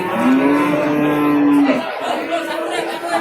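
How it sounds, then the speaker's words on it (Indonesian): A cow lows in one long, drawn-out moo at a busy cattle market in Babat, Lamongan, East Java, loud and close, while crowd chatter and people talking carry on underneath and after. "Nah ini juga masih banyak sapi doro-doro yang sebelah sini."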